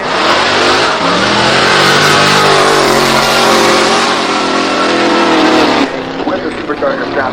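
A supercharged drift car at the Goodwood Festival of Speed revs hard in a loud, sustained roar that climbs in pitch and cuts off abruptly near the end, with a voice talking over it.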